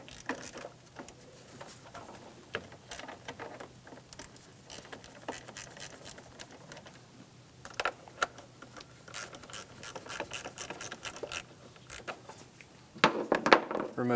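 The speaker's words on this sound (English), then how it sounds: "Using a 10mm socket, loosen the terminals on the battery." A 10mm socket ratchet loosening the battery terminals on a 2003-2008 Honda Pilot, making quick repeated clicking bursts with pauses between strokes, close and fairly faint, no talk.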